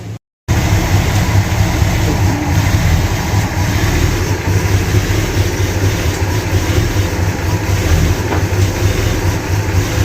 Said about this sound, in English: And there it is idling.